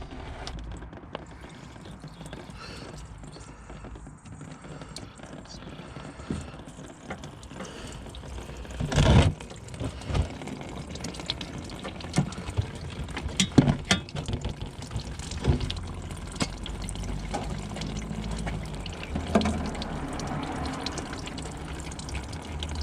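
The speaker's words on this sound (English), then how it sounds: "we've got the cap off, and as you can see it's draining nicely" Coolant draining from a Volvo D5 engine into a bowl, a continuous close trickle and splash of liquid with scattered clinks and knocks on top, one louder clatter partway through.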